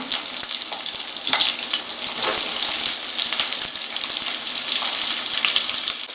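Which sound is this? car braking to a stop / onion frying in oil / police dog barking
onion frying in oil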